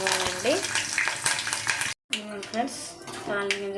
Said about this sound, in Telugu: కొంచెం వేగనివ్వాలండి.